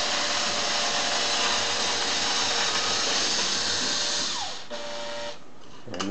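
A power drill drives a Hario manual burr coffee grinder full of beans, a loud continuous whirring grind for several seconds that drops in pitch and level near the end as the grinder empties and the drill slows.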